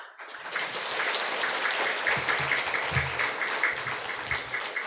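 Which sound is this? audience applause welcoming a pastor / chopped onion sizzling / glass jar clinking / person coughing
audience applause welcoming a pastor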